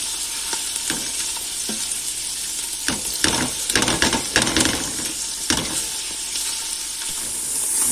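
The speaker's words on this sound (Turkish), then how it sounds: "Soğan üzerine soğanı yaxşıca qovurdum" Onions fry in a pan with a steady loud sizzle throughout, broken by scraping stirs and clatters from a utensil in the middle.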